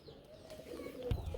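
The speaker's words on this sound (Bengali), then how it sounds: "আরেক জোড়া গুল্লা কবুতর চলে আসছে" Gola pigeons coo softly nearby, a couple of brief low coos over quiet background noise.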